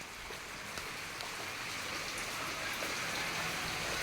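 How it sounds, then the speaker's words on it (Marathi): Heavy rain pours down steadily in a village, a dense, even hiss of drops striking surfaces, continuous and moderately loud with no voices. "पाऊस परत जोरात आलेला आहे."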